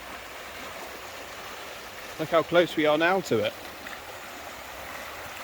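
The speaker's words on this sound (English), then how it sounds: "got the water rushing down around this bend" A stream rushes steadily around a bend in a continuous broadband wash, in Ottery St Mary, Devon, with a person speaking briefly over it partway through.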